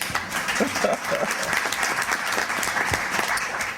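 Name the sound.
audience applause for a speaker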